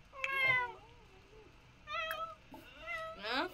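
A cat in The Sims 4 video game meows repeatedly, with several clear, drawn-out tonal calls spread across a few seconds, the last one brighter and more strained.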